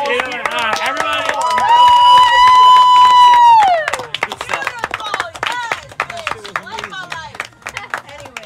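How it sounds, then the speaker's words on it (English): Friends watching Dragon Ball Super episode 131 together clap and cheer, a loud sustained sung note and excited voices first, then a steady patter of clapping mixed with chatter. "Can we have a round of applause?"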